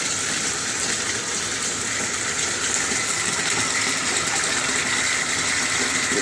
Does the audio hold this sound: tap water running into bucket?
yes